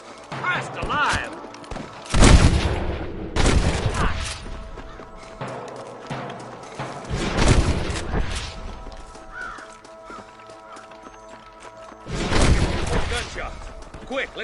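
Gunfire in a video game shootout: bursts of loud shots and impacts come in several clusters separated by quieter gaps, with voices talking between and over them.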